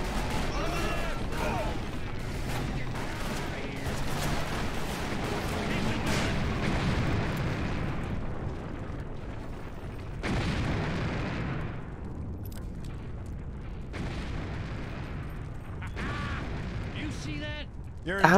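Rolling explosions with secondary blasts in the Western shooter Call of Juarez: Bound in Blood, heavy booms and crackling debris layered over constant game noise and a talking voice.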